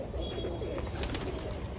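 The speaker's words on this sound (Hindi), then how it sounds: "देखो सारे कबूतर खुले हुए हैं अपने" Pigeons on a Delhi rooftop coo softly nearby in low, throaty murmurs, with a faint background hum and a few brief higher chirps mixed in.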